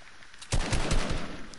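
Gunfire in the video game Fortnite: after a quiet half second, a loud burst of rapid shots erupts and continues as a dense, rattling volley to the end.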